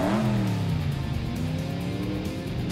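A cartoon Hot Wheels race car engine revs up loudly, a rising whine that climbs in pitch and then holds a steady high drone, close and alone without speech.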